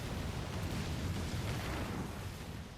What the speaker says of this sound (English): A true hero never looks at the explosion they just caused.